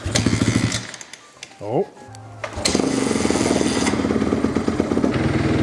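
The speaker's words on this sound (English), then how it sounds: "to start the bike, I have to kick it back, so let's start." A motorcycle is kick-started with a brief thump, then its engine catches and settles into a steady, close, rumbling idle that fills the rest of the clip. A person briefly exclaims over the engine.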